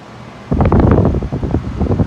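A 2012 Tempstar 5-ton heat pump in cool mode, with a Gentech fan motor turning at 825 RPM, kicks on after a quiet moment into a loud, steady whooshing rush of air.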